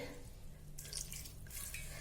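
Water is poured into a cooking pot of mutton methi with chopped onion and ginger-garlic, making soft splashing bursts in two short pours against a quiet background.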